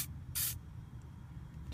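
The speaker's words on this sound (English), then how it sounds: "Let's spray a little bit in this area right here." A single short burst of WD-40 aerosol sprayed onto a Porsche wheel rim to lift Plasti Dip, a crisp hiss lasting about a quarter second over a low, quiet background hum.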